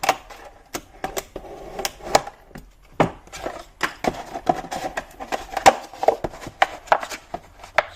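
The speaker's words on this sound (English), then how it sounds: "So we'll flatten it out, grab a Stanley knife and just trim it to size." A Stanley knife trims flattened material to size, sharp irregular clicks and scraping cuts repeating closely through the passage, with no talking.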